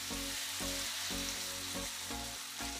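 Chicken wings fry and get stirred with toasted spices in a hot pan for a curry, giving a steady close sizzle with a regular rhythm of stirring scrapes, about one every half second.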